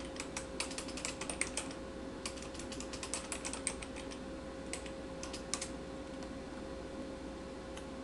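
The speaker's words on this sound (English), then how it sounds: "I'm going to type in my Facebook page" Fingers tap on a computer keyboard in irregular bursts of light, quick clicks with short pauses between them. The sound is close but faint over a quiet room hum.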